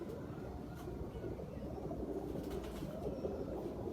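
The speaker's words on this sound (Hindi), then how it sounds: "सियालकोटी कबूतर है" Sialkoti pigeons coo steadily at a moderate level through a dense, noisy background, with no speech.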